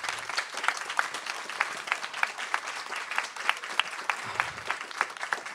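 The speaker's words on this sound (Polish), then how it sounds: "bardzo Państwa prosić o oklaski dla naszych pytających" An audience at a panel discussion event applauds, a thin, fairly quiet patter of individual claps with distinct, uneven strikes continuing steadily.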